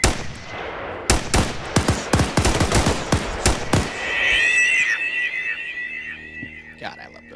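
Gunfire in the video game Arma 3: a rapid string of sharp, loud shots in an uneven burst, followed by ringing electronic tones and faint background sounds.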